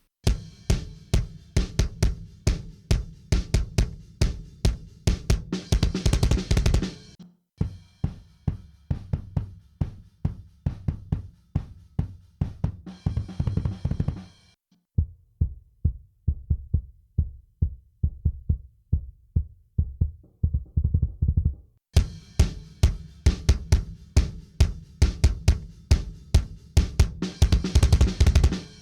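An unprocessed kick drum, heard in turn through an internal mic, an external mic and a sub-frequency mic, thumps in fast repeated patterns; the middle section is dull and bass-heavy, and the final stretch returns bright and full.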